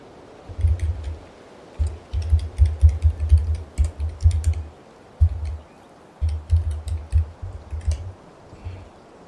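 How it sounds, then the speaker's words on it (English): Mechanical Vortex keyboard typed on in close, loud bursts of rapid key clicks separated by short pauses. "The keyboard sounds amazing, by the way."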